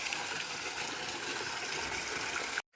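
Steady rushing and splashing of water from a small garden water feature, loud and close, continuous until it cuts off abruptly at the end.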